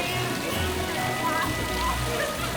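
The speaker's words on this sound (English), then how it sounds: "the rain keeps pouring, soaking our legs, and we're shivering" Pouring rain at the Marienplatz Christmas market in Munich in December, a dense, continuous hiss of falling water with faint voices mixed in.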